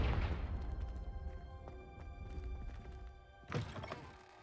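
A Confringo fire spell cast in a video game, a heavy thunk opening the moment and a second whooshing blast a few seconds later, close and fairly loud over a low ambient hum.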